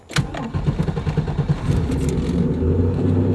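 Volvo car starting off, heard from inside the cabin: the engine catches with a pulsing, throbbing rumble, then settles into a steady, moderately loud low drone.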